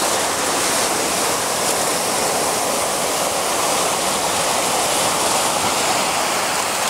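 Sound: ocean waves coming in on the shore

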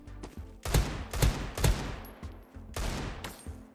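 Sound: Desert Eagle pistol gunfire in Krunker.io video game

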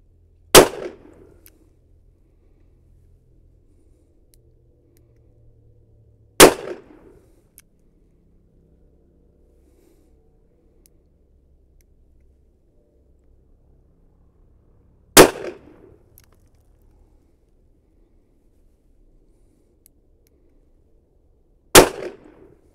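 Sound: Kimber K6s .357 Magnum revolver gunshots

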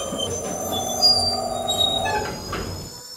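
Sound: train passing on the train level of a Roblox elevator game

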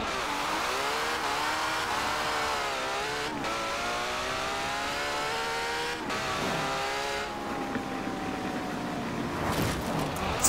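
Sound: Ferrari car engine racing in Forza Horizon 4 video game

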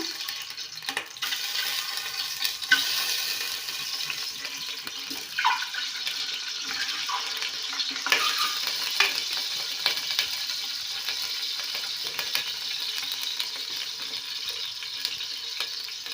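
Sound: eggs frying in a pan

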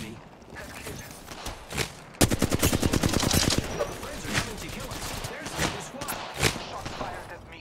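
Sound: shotgun gunfire in the video game Apex Legends

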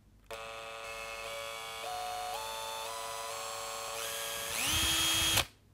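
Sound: Makita 18-volt LXT cordless combi drill running

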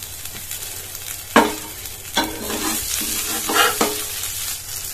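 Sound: burger patty sizzling as it cooks in a pan

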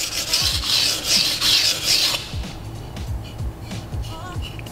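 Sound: sharpening a Nishida Kurouchi petty knife, forming the burr

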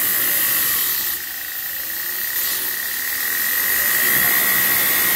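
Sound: OBM surface grinder cutting

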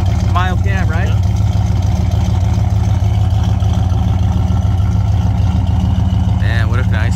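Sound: 1972 Pontiac Lemans engine with turbo muffler, mild cam

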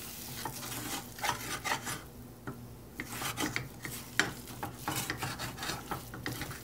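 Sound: stirring and sautéing masala in sesame oil

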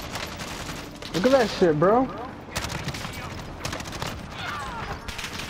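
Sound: sentry gun firing in the video game Call of Duty Warzone

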